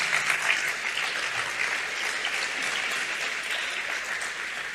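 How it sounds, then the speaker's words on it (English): Steady applause from a conference summit audience after a speaker's presentation, a continuous even wash of many hands clapping at moderate loudness, with no talk over it. "Applause to him."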